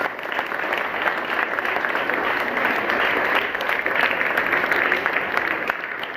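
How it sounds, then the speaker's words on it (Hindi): Loud, dense applause from a school audience at a Fatima Sheikh birth anniversary event, steady and continuous with no pauses. "राष्ट्रमाता फातिमा शेख के लिए जोरदार ताली बजाइए, दिल खोल के ताली"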